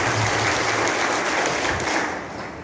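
A crowd at a press gathering applauds steadily, a dense wash of clapping that holds loud and then begins to fade toward the end.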